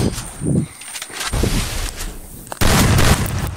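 Gunfire in the Free Fire battle royale game, several close, loud shots spaced through the clip, ending in a sustained burst of firing.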